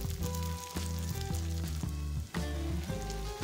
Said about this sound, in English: Use a tablespoon to scoop batter into the hot oil.